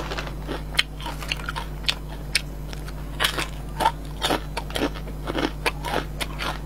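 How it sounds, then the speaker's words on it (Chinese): Crunchy spicy Sichuan-pepper rice crust being bitten and chewed close to the mic, a run of sharp crisp crackling bites with a steady low hum underneath and no talking. "很酥脆的吃起来。"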